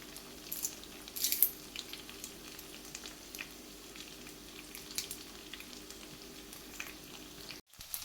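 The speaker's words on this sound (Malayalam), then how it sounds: "തിരിച്ചും മറിച്ചൊക്കെ വെച്ച് ഇത് ഫ്രൈ ചെയ്തെടുക്കാം." Chicken fries in a green masala of fresh coriander and spices with curry leaves, giving a faint, steady sizzle with scattered small crackles, then a brief cutoff near the end.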